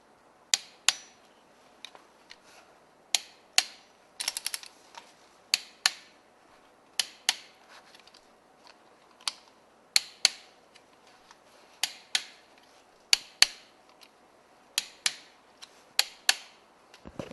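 A torque wrench clicks sharply again and again while engine bolts are tightened in stages, isolated metallic ticks spaced a second or two apart in a quiet workshop.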